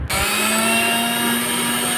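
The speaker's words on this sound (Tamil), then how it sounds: "ஃப்ரிட்ஜ் ஜூஸை அந்த அண்ணன் பார்த்திங்கன்னா மிக்சியில் போட்டு அடித்து நல்லா ஃப்ரெஷ்ஷாக ரெடி பண்ணி கொடுக்குறாப்புல" An electric mixer grinder at a fruit and cool-drinks shop blending fresh fruit juice, starting abruptly and whirring with a loud, steady, high motor drone.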